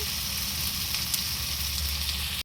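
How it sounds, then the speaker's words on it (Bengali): Tomatoes fry with salt and turmeric in a pan, a soft even sizzle that holds steady throughout and stops abruptly just before the end, heard close and alone. "টমেটো দিলাম তাগুলো এবার কষে নেব এবার লবণ দিলাম হলুদ দিলাম"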